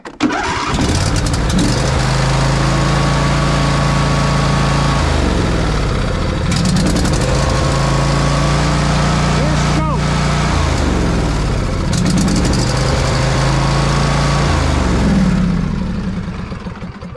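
A small choked engine on an off-grid tiny house property cranks and catches repeatedly, running loud and close with a steady mid-pitched drone, surging and dipping between restarts over the whole stretch.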